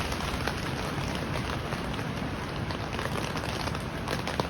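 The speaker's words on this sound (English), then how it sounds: "Definitely been raining very hard" Heavy rain drums steadily on a tent's thin fabric overhead while camping in Tyler State Park, a dense, constant patter close by with no voices.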